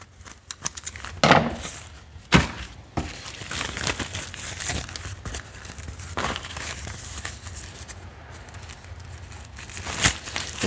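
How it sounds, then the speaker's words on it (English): Plastic wrap crinkles and rustles while being handled and cut for wrapping the jaw of a plastic wolf skull, with sharp tearing and crumpling bursts spread irregularly across the clip, close and fairly loud, with no talking. "just take a piece of our plastic and cut it off"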